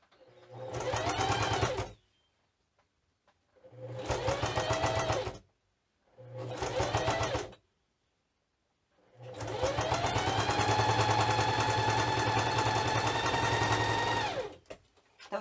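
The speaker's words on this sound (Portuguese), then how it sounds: "passo uma costura no zíper" A sewing machine stitches a zipper seam on a fabric medicine wallet in three short bursts and then one long steady run. The pauses between bursts are quiet.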